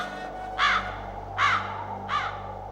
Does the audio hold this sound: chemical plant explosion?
no